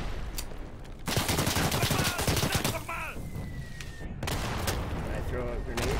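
Bursts of rapid automatic fire from a short-barreled automatic weapon in the Day of Infamy video game, loud crackling volleys in several runs with brief gaps, other shots and a voice heard between.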